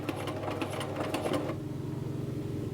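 A sewing machine stitches a flap pocket for McCall's 8031, running in a steady rapid patter for about a second and a half, then stopping and leaving only a low hum.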